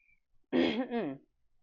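A single short throat-clearing cough, close and fairly loud, against near silence.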